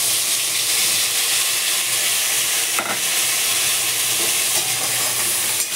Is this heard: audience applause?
no